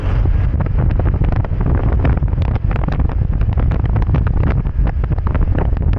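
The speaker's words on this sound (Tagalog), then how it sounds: "Lakas ng hangin." Strong wind roars and buffets the microphone during a motorcycle ride on a road in Southern Leyte, loud and constant throughout with no pauses.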